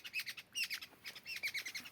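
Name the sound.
birds calling in alarm at a snake raiding a nest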